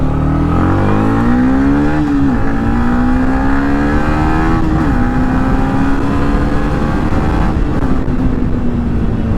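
Motorcycle engine on a mountain road, a loud, close droning hum with the pitch climbing and dropping as the rider shifts and revs, steady throughout with no talk.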